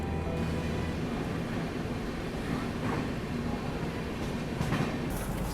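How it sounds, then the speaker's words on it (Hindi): Gorakhpur-Varanasi intercity express rolling into Bhatni Junction station, a steady loud rumble of wheels and carriages with faint rhythmic clatter, heard close from on board, no voices. "ट्रेन पहुंच चुकी है भटनी जंक्शन रेलवे स्टेशन"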